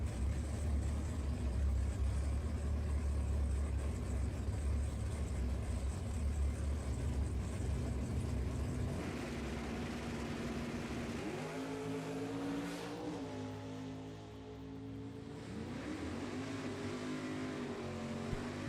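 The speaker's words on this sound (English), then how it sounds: "John Nekaporchik, the Grosse Isle, Michigan 23 Copo Camaro. He'll make a single here in the left-hand lane." A 2023 Copo Camaro makes a single drag-racing run in the left-hand lane, a loud sustained engine roar whose pitch climbs and drops through gear changes before it settles into a thinner, fading drone.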